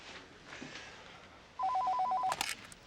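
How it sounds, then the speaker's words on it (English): A telephone rings once in a short electronic burst of rapid repeated tones, clear against a quiet room near the end. "My phone's ringing."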